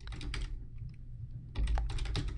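Quick, close clicking of keys on a computer keyboard in two fast bursts split by a short pause, with no voices.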